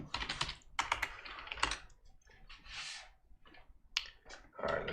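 Fast typing on a computer keyboard while running a Django server from the command line, a dense close run of clattering keystrokes with brief pauses between bursts.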